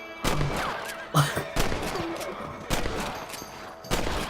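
Rifle gunshots in the video game Red Dead Redemption, five sharp, loud cracks spaced about a second apart, with a faint background underneath.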